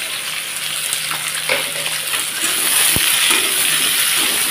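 Small potatoes fry in hot oil with onion and garlic for an egg curry, a steady close sizzle with faint stirring scrapes and a soft clack midway.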